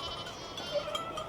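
Sheep bleating on a farm in Hallingdal, Norway: faint, distant bleats rise briefly over a steady hiss of outdoor background noise.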